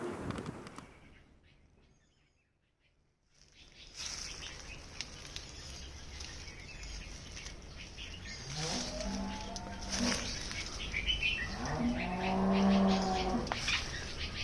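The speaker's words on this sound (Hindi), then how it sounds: "आप मेरे बैकग्राउंड में सुन सकते हैं कितनी सारी चिड़ियाँ ची ची ची ची कर रही है" Birds call and chirp in the background of an outdoor scene, with short bright repeated calls over a soft ambient hiss after a brief quiet moment.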